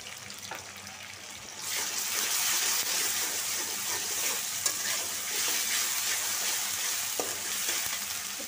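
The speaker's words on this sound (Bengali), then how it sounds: "একটু বাইজা নিলাম।" Onions sizzling in a pan with garlic paste and ginger paste, a steady close frying hiss that jumps louder partway through as the paste hits the oil, with occasional stirring scrapes and no talking.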